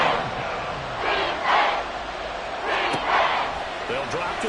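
Football stadium crowd cheering before a big third down, a broad roar that swells in two waves over steady murmur, with a commentator talking over it.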